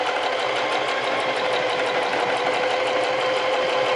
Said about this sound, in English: I'm just gonna sew, keeping it really close